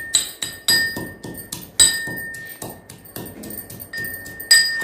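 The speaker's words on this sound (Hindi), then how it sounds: "तो खलबट्टे में इस तरह से हमने कूट ले रहे हैं।" Spices for an Ayurvedic jaggery tea are pounded with a pestle in a mortar, giving sharp, ringing clinks and knocks in an irregular rhythm, close and fairly loud.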